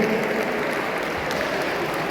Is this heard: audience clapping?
yes